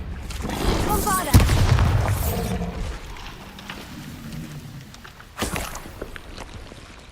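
A Bombarda explosion spell in the game Hogwarts Legacy, a loud booming blast near the start with rumbling aftermath and another impact later, over a man's speech.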